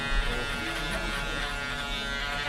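An Andis foil shaver buzzing steadily at a barbershop during a textured high fade haircut, close and continuous with a constant electric hum and no talking.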